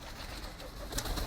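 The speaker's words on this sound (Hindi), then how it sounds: "ये देखें कबूतर भी हैं और ये फॉक्सन भी है" Pigeons and other birds feeding in a home courtyard, with soft cooing and bird calls under a steady hum of background noise, growing a bit louder near the end.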